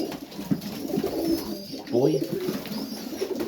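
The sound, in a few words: Serbian highflyer saddleback pigeons cooing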